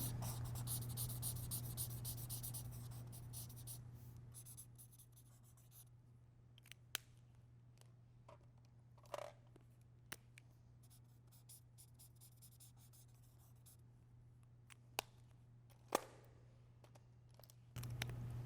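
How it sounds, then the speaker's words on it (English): A pencil sketching on paper, soft scratchy strokes and occasional sharper taps, close and faint over a steady low hum that drops away partway through. "I'm just kind of drawing what comes into my head"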